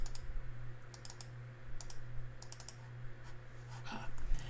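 Sparse computer mouse clicks while adjusting software settings in a digital coloring program, quiet taps in small clusters over a low steady hum.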